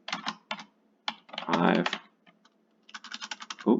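Fast clattering keystrokes on a computer keyboard in quick irregular bursts with short gaps, close and clear, ending with a firmer tap.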